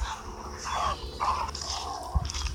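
A dog barks in the zombie game Into the Dead, a few short barks set against steady background game noise, fairly faint and without talk.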